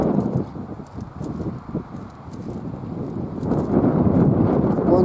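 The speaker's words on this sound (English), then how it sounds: "It's very windy, so I'll not be able to talk too much." Strong gusts blowing through a Belfast garden, buffeting the microphone in uneven surges that dip briefly and then build louder toward the end.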